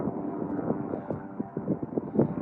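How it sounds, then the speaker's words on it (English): A distant helicopter over a burn scar on the Pacific Crest Trail drones steadily under gusty wind noise, with a low, rhythmic rotor thumping pulse. "Got a helicopter right there."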